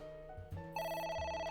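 A telephone starts ringing in AI: The Somnium Files: a bright, steady electronic ring tone that kicks in after a soft thump and holds loud to the end.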